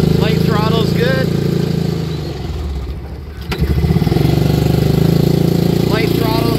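Polaris Ranger 500 6x6 engine running at light throttle while moving forward in low gear, a steady mid-pitched drone that dips briefly then returns, with someone talking over it throughout.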